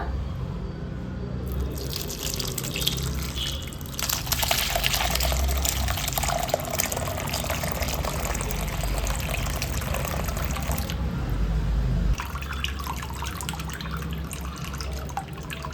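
Homemade pineapple wine pours and trickles into a container, a continuous splashing liquid stream with a few pauses, close and fairly loud, no talking.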